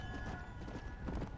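A horse gallops in the video game Red Dead Redemption: Undead Nightmare, its quick rhythmic hoofbeats running steadily under a low, muffled game soundscape.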